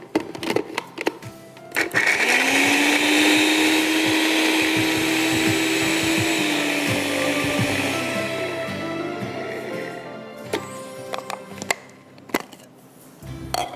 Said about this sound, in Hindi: I am going to do the प्याज in the blender later on